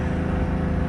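Loud, steady engine and exhaust rumble from a 400+ hp Dodge Charger R/T, a dense low drone filling the whole moment without distinct separate pops.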